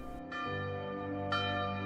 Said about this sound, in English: She ran into her garden in fear and heard the church bells ringing.